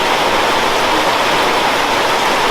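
Heavy rain pours down steadily during a downpour of over 140 millimetres, making a dense, loud, unbroken hiss with no pauses or voices.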